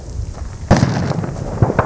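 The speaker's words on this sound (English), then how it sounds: "so you gotta draw your weapon and shoot it." A handgun fitted with a red dot sight fires at a target during training, giving one sharp loud report followed by a few smaller pops and thumps nearby.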